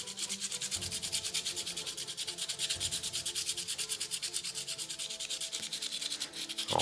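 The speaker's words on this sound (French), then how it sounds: "Donc on refout un petit coup de ponçage rapide." Steady rapid scratchy rubbing of sandpaper on a 3D printed FDM plastic part, a continuous close back-and-forth grinding with fast regular strokes and no speech.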